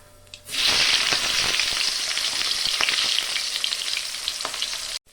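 Onions drop into hot fish-frying oil seasoned with black cumin and burst into a loud, close sizzle that holds steady for about four seconds before cutting off abruptly.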